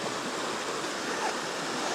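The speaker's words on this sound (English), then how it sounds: "some water kind of rushing down there" Water rushing in a river below a bridge, a steady broadband wash with no breaks, fairly distant and even in level, with no speech over it.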